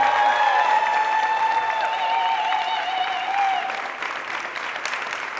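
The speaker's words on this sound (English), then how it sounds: "so let's give her an enormous round of applause." Applause from the audience at an event speech fills the whole clip as a steady, dense wash that eases off slightly toward the end, with some tonal background sound underneath.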